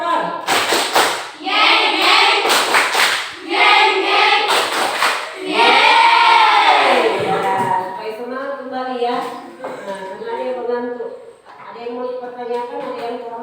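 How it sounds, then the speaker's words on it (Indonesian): A classroom group plays the 'tepuk motor' clapping game: several sharp bursts of clapping come in quick rhythm, followed by voices chanting and singing in a sing-song pattern. "Ya, kita mulai. 1, 2, 3. Tepuk motor."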